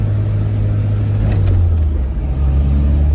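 Cabin view of a Tofaş Doğan SLX on the move: a loud, continuous low engine rumble that dips and then shifts lower as the car changes pace, with no voices over it.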